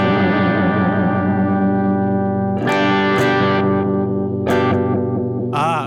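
A guitar played through a modulation effects pedal with its depth turned down, giving sustained distorted chords with a light chorus-like shimmer and echo, loud and continuous with no talking.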